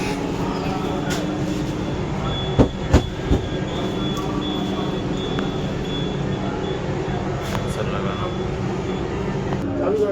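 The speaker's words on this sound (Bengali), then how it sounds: "ট্রেন ছেড়ে দিল।" Vande Bharat sleeper train pulling away from the platform, a steady low rumble of the moving carriages filling the clip with a couple of brief knocks near the start, heard from inside the coach.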